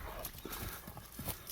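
Hooves of a tall horse being led back and forth for prospective buyers clop in a few quick, fairly close steps on firm ground, with no talking.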